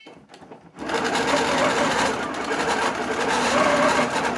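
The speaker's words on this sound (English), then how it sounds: "we're going to quilt a few stitches and then we'll terminate" A quilting sewing machine starts after a brief pause of handling noise, then runs steadily and loudly with a fast, even stitching whir.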